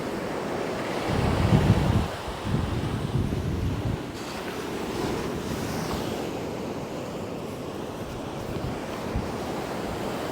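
Sea waves break and wash against a shore beside a sea wall, a steady broad roar with a heavier surge early on, mixed with wind buffeting the microphone.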